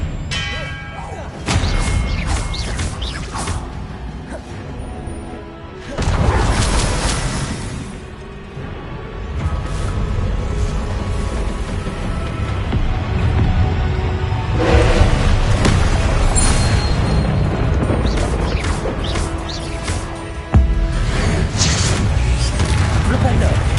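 Spell blasts and booming magic explosions in Hogwarts Legacy, hitting in heavy bursts every few seconds while a player keeps shouting spell names over the clashes.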